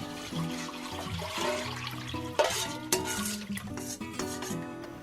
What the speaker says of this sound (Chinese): 接下来把米浆稍作搅拌之后，再把米浆倒进来。